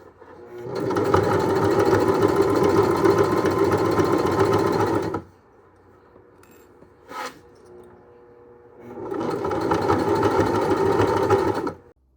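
A sewing machine stitches fabric for a homemade Spider-Man suit, running loud and steady for about five seconds, pausing with a brief tap, then whirring again for a few seconds.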